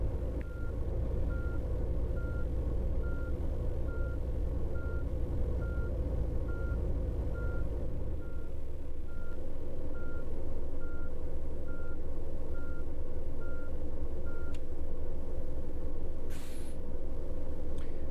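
A coach in the OMSI 2 bus simulator backs into a parking spot, steady evenly spaced reversing beeps ringing out over a low, constant engine rumble, with a brief sharper hiss near the end.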